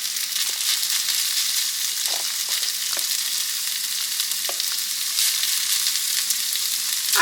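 Ground beef frying in a skillet, a bright constant sizzle with scattered crackles and a few soft scrapes of stirring, close and fairly loud with no talking.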